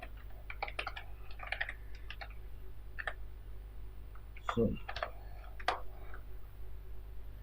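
Someone types on a computer keyboard while entering a name in the Chrome browser. Quick, light key clicks come in short irregular clusters, close and clear against a low background hum.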